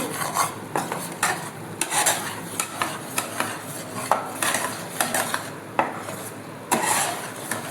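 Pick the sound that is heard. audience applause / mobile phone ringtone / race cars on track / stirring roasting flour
stirring roasting flour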